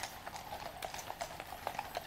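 Horses of the Blues and Royals troopers clip-clop along the Mall toward Horse Guards in London. Many hooves strike in an irregular, moderately distant patter over steady street ambience.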